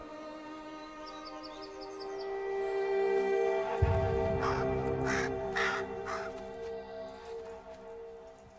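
A crow in Romania caws repeatedly, with several harsh calls rising in the middle, fairly close and loud, over a faint tonal background.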